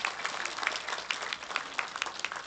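An audience at a community health outreach event in Blora applauds, giving faint, scattered clapping with a few sharper claps standing out over the quiet spread.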